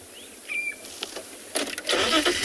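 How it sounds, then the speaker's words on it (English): A yellow-throated petronia calls on a hot-day safari at Tswalu, giving a brief thin whistled note early on, followed by rustling and broadband noise. "I think it's a yellow-throated petroni without me looking."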